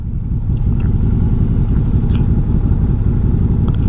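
A Can-Am Maverick Sport XXC side-by-side drives along with a steady, loud engine drone and rumble throughout, close and continuous.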